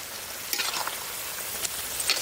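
Pieces of shingi and magur fish fry in hot oil with a quiet, steady sizzle and a few soft crackles and stirring scrapes.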